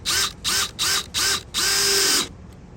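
A power driver sinks a screw into a wooden fence door: four short whirring bursts, each about a quarter second, then one longer continuous run of about three quarters of a second, loud and close, with no talking.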